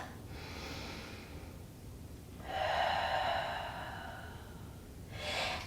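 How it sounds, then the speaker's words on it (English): Slow, deep breaths during a yoga hip-flexor and glute stretch: a long exhale, a pause, then a fuller airy breath and the start of another, close and soft over faint room noise. "One more breath."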